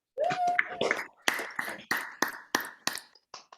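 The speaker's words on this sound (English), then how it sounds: "Keep those applause going for Darryl Clark." Scattered hand claps from an online audience of contest participants unmuting, a few uneven claps and taps spread over a few seconds, fairly close and thin, with a brief voice sound at the start.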